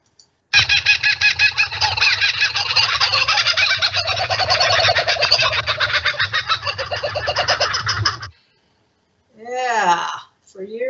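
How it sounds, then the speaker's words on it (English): A laughing kookaburra gives a long, loud, rhythmic cackling call that rises and falls for about eight seconds, followed after a short pause by a second, shorter burst of calling. "No, these are birds, and it's the laughing kookaburra."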